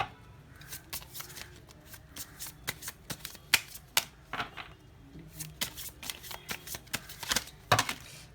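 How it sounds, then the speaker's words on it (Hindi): Tarot cards being shuffled by hand, giving a steady run of crisp riffling flutters and soft slaps at close range, alone with no talking. "विदाउट वेस्टिंग ए टाइम मैं कार्ड को शफल करती हूँ।"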